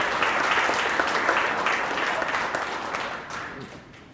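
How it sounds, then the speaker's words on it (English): Steady audience applause at a university Earth Day essay contest awards ceremony, a dense, sustained wash of many hands clapping that holds loud and then slowly fades toward the end. "Once more, a big round of applause for the 11th and 12th winners and all the students."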